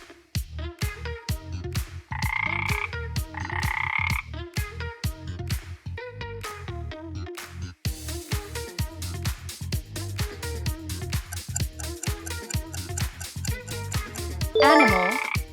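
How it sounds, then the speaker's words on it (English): A frog croaks in a fast, rhythmic series of loud, close pulses that repeat steadily and are heard alone, ending with a brief higher, wavering tone. "it's a frog"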